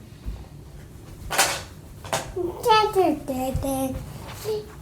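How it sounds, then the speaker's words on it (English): An indoor door swings shut with a couple of soft knocks and a thud while a voice chatters nearby. "Close the door, baby."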